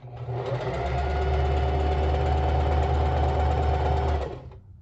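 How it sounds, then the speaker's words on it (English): A sewing machine runs a back stitch across fabric for ruffle shorties, a loud, steady motorized hum with rapid needle chatter for about four seconds before stopping. "I am just gonna start with a back stitch and sew all the way to the other side"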